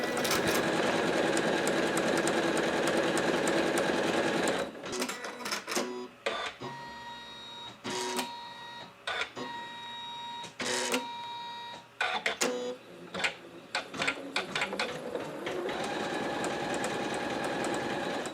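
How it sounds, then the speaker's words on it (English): A Janome S9 embroidery machine stitches out a handwriting design, giving a fast mechanical whir that runs steadily, then breaks into stop-start bursts with short pauses before resuming continuously; close and moderately quiet, with no talking. "The machine tells me it's going to take 21 minutes to stitch it out."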